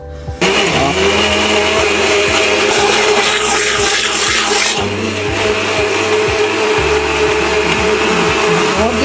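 A mixer grinder blends a tender coconut shake with sugar, its loud, steady motor whir running close and continuously with slight shifts in pitch as the contents churn.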